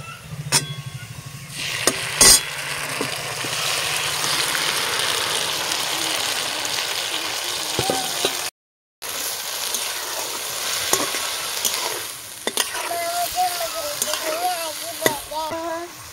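Egg and vegetable khod frying in a spice mixture in a pan, a loud continuous sizzle with stirring scrapes throughout and a short gap partway through.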